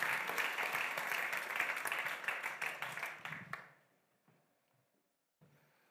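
Church congregation applauding during a sermon on prayer; lively clapping for about three and a half seconds, then dying away abruptly into near silence with a faint stray sound.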